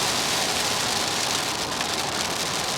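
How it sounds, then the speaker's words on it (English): Rain pours down outdoors on a drive from Toronto to Sault Ste. Marie, a dense, steady hiss that stays loud and unbroken throughout, with no voices. "the rain is just starting to come down."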